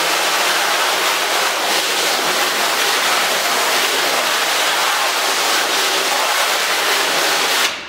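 Steady rush of running water rinsing ink off a screen printing screen, a loud continuous hiss with no break until it cuts off at the end.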